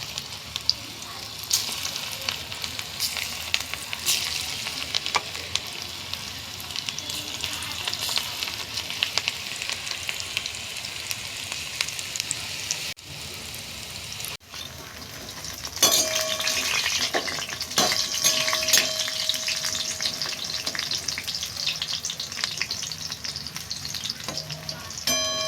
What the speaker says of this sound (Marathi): या प्रकारे मी भजी टाकते. कोलिमची भजी आहे ती.